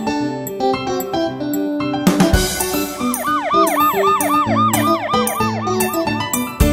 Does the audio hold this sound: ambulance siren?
yes